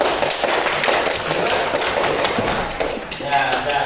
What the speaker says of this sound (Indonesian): Ya, silakan tepuk tangan.